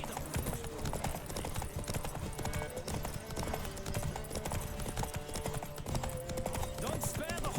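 Hooves of a galloping horse pound in a fast, steady clip-clop throughout a horse race in The Witcher 3, layered over game music and ambience with voices talking intermittently.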